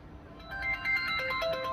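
An Android 7.1 4G VoLTE smart landline phone rings for an incoming call, a faint, close melodic ringtone of bright stepping notes that starts softly and continues steadily.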